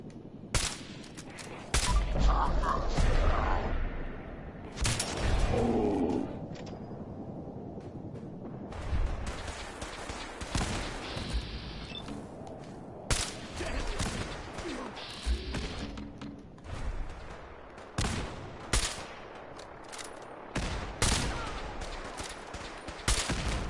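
Sniper rifle gunshots in the video game Fallout 4, a series of loud, sharp cracks spread across the stretch at irregular intervals, some in quick pairs, with game ambience and faint talk between shots.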